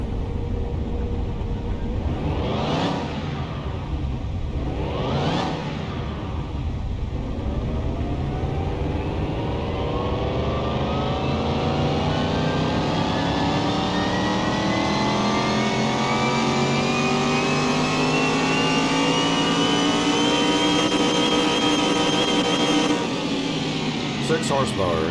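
A car engine on a dyno in Car Mechanic Simulator 2021 blips twice, then climbs in one long, loud sustained rev to the limit and cuts off abruptly, with a voice talking over the start.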